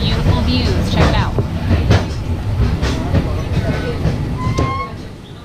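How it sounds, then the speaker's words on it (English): Rumble and clatter of the Peak Tram funicular climbing Victoria Peak in Hong Kong, a steady rolling drone with track clicks and occasional high wheel squeals, loud and close throughout, with voices talking over it. "we're on the Peak Tram and we're going up to Victoria's Peak, and we are on something called a funicular tram"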